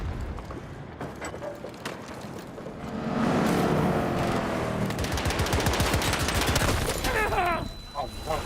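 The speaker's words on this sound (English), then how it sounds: "He shot the wall and blew me up before I can hit the C4" Rapid gunfire and a blast in a military shooter game with C4 and attacking hostiles, a dense loud barrage of shots swelling into sustained explosive roar, with faint voices earlier.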